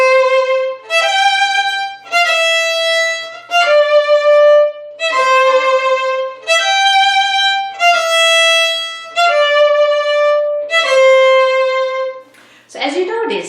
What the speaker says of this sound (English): Today we're going to talk about hooked bows or dotted notes.